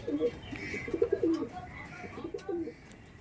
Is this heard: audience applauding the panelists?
no